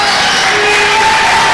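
Steady crowd noise fills a high school boys basketball game between Yorktown and Delta, a constant roar with a light clapping wash and no distinct bursts, sustained throughout.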